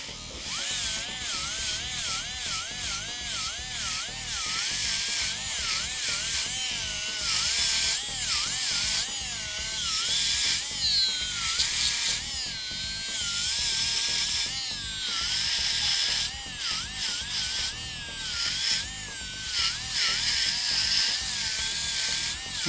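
A micro motor spinning a flexible radial bristle rubber polishing wheel, a close high-pitched whine that keeps rising and falling in pitch as the tool is worked, steady for over twenty seconds.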